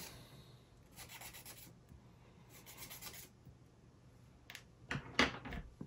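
A wooden UGears model part is sanded by hand in short, soft rasping strokes, a few separate passes close by at low volume, with a couple of louder scrapes near the end and no talking.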